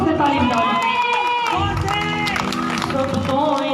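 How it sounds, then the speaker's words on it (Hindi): A church congregation applauds and cheers after a prayer, with loud clapping, whoops and lively voices blending with singing or tonal sounds over a continuous crowd wash. "जोर से ताली बजाओ।"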